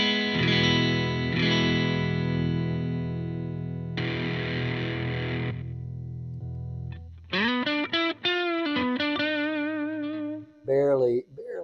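A Rivolta Combinata XVII electric guitar playing long, ringing sustained chords through effects with light distortion, loud and close, followed by shorter gliding notes and what sounds like a voice near the end.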